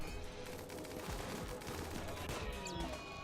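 Gunfire rattles in dense, continuous bursts against a centipede in the game RimWorld, with overlapping shots forming a steady, loud, muffled barrage throughout.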